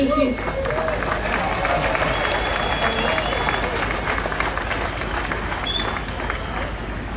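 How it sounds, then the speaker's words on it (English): An outdoor crowd at a Welsh independence rally in Windsor Place, Cardiff, applauds in a steady, dense wash of clapping that holds for several seconds, with soft murmuring mixed in. "I got a clap for them in Wales"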